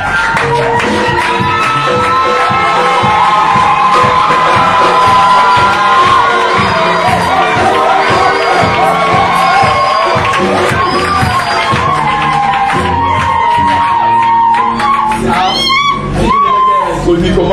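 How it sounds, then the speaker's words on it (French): A packed auditorium crowd roars, cheers and shouts for the President, a loud, continuous wall of voices with whoops rising over it. "Je voudrais, s'il vous plaît, que nous acclamons avec moi son Excellence"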